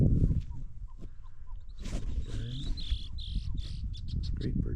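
Birds call at a lakeside bird sanctuary in Ahjumawi Lava Springs State Park, a run of chirps and tweets with possible cooing rising over low rumbling background noise, some close and others farther off.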